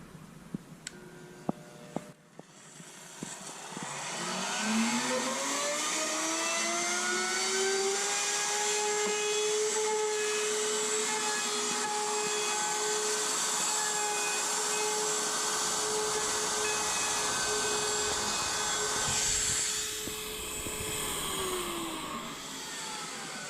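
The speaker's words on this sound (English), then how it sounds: "Come back on here with our router on both sides of the plywood now." A router cutting along the edges of a plywood sheet, a loud, steady high-pitched whine that spins up, holds for a long stretch with a slight pitch dip, and then winds down.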